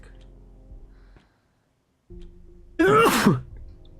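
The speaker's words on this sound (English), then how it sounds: "Let me just blow my nose real quick." A single forceful nose blow, a short loud honking burst after a quiet stretch, with faint background rumble.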